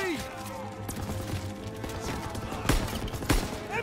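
Machine-gun fire in a World War II Battle of the Bulge combat scene in Call of Duty WWII, steady crackling bursts with sharper shots standing out near the end, mixed with battlefield noise and shouted voices.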